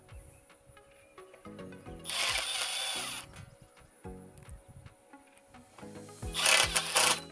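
A power drill drives tech screws into swaged steel greenhouse pipe during V-truss assembly, two separate whirring bursts of about a second each, close and loud against a quiet background with no speech.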